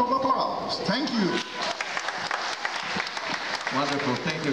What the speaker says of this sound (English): Now give yourself a hand of applause.